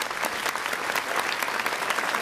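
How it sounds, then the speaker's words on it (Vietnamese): Steady, dense applause from a television talent-show audience for a child singer, loud and continuous throughout with no talk over it. "Một tràng pháo tay dành cho nghệ sĩ Gia Bảo"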